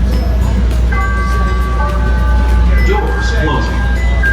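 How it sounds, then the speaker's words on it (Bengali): A Chicago Metro red line train rumbles along with a steady low roar, and a faint ringing chime rises over the hum of the car interior. "This is a red line train to North Pitt."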